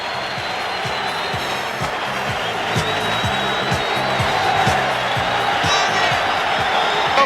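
A 1977 boxing crowd greets Muhammad Ali with a steady, dense roar of cheering, whoops and scattered clapping that fills the arena throughout.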